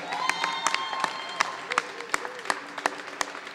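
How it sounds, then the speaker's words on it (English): Scattered, sparse claps from a small audience, individual sharp hand slaps spaced irregularly, fairly close, with a voice speaking faintly underneath. "You should clap right there."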